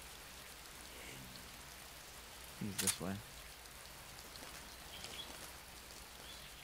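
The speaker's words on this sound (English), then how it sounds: "Oh, it's raining." Rain falls steadily in Metal Gear Solid 3 as a soft, constant hiss throughout, while a brief burst of game voice and sound rises near the middle and someone speaks briefly.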